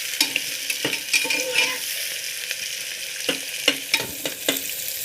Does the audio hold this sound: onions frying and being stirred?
yes